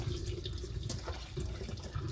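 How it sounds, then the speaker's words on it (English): Cold tap water runs over cooked borage in a colander in a kitchen, making a steady, close splashing rush that continues throughout with no one talking. "And then I'm going to run cold water on it"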